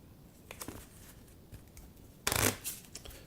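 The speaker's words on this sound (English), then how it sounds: "I'm going to give this a little bit of a quick rifle shuffle" A deck of resource cards for the board game Tiny Towns gets a quick rifle shuffle: soft scattered riffles, then one fast, louder flutter of cards close by, with no talk.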